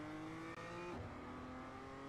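A race car engine in the iRacing sim, an M2, drones loudly and steadily, its pitch dropping and sagging partway through as it bogs down under turning and braking.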